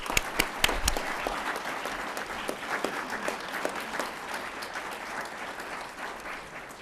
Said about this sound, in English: Please give them all the teachers a round of applause.